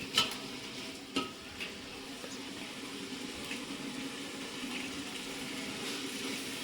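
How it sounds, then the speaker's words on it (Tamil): Tomatoes sautéing in oil for a vegetable biryani on a wood-fire stove, giving a steady low sizzle with a few clear stirring knocks early on and no talk. "தக்காளி சேர்க்கவும் தக்காளி நன்றாக வதங்கவும்"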